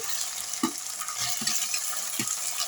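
Tomatoes go into frying onions with ginger-garlic paste in a pan for chicken biryani, giving a steady close sizzle broken by several soft stirring scrapes, with no talk.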